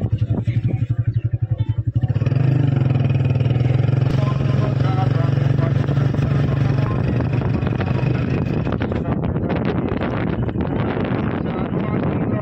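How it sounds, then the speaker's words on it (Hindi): A motorcycle engine starts with a rhythmic idle thump, then revs and carries on as a loud, steady drone with rushing wind noise during the ride, close to the microphone. "चलो भाई अभी हम चलते हैं जी मोटरसाइकिल पे"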